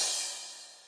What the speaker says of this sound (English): And finally there's a crash